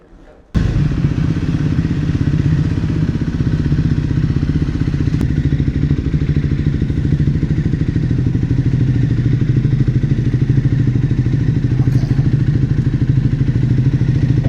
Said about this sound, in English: Let's leave the engine on for a little bit